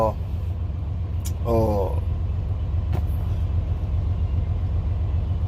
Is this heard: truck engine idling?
yes